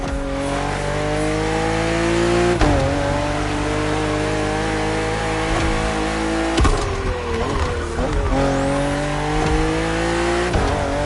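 BMW M2 and M4 race cars in The Crew Motorfest video game, engines roaring loud and continuous as they rev up and shift through the gears on a narrow twisting road, with brief tire squeals and no talk.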